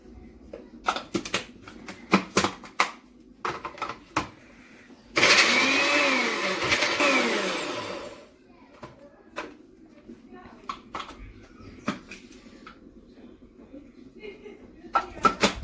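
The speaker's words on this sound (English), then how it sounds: "I grind my bread. I'll grind all of it, the 400 grams, and I'll use it on my meat." A blender grinding 400 grams of bread into crumbs for kebabs, a loud harsh whirring burst lasting about three seconds, surrounded by scattered kitchen knocks and clicks.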